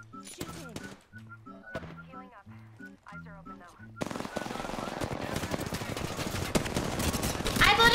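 Bursts of automatic gunfire from an Apex Legends match build into dense, sustained shooting over the last half. The firing comes loud and close, over in-game music and tones.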